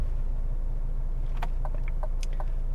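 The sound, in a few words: Cadillac CT5 sedan driving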